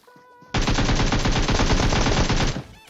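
Automatic gunfire in PUBG Mobile erupts as a loud, rapid burst of shots lasting about two seconds, starting abruptly after a brief quiet moment and cutting off sharply.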